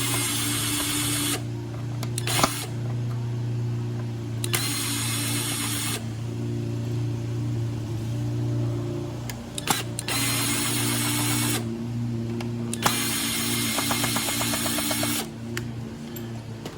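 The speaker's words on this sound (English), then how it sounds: "Let's go ahead and open this up with a drill" A drill whirs in several separate bursts while opening up the carburetor of a Craftsman mower with a Briggs & Stratton Classic engine, over a steady low electrical hum.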